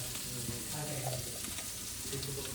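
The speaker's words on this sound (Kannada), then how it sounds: "ನೋಡ್ರಿ, ತವಾ ಫಿಶ್ ಫ್ರೈ" Tawa fish fry in a Kushalnagar home recipe sizzles steadily on a hot griddle, a dense, constant frying hiss that stays close and moderately loud throughout.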